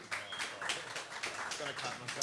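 Brisk applause from a live audience at a master class event greeting music-duo guests, a steady, moderately loud spatter of hand claps over a couple of seconds.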